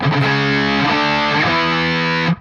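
A distorted electric guitar plays a three-note power chord riff, loud and sustained, with several rhythmic chord changes ringing out before the sound cuts off at the end.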